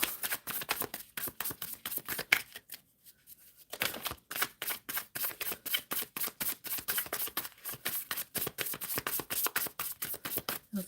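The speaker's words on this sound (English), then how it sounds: "Shuffling for Laura" Tarot cards are shuffled by hand in quick, rhythmic riffles of crisp clicks and flutters, close and fairly quiet, with a brief pause partway through before the shuffling resumes.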